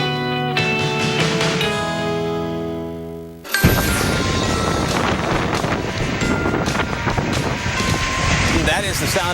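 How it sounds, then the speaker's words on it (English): Strong wind during a tornado outbreak roars as a loud, steady broadband rush. It follows a few seconds of held tonal sound, then stays dense and unbroken to the end. "That is the sound of wind"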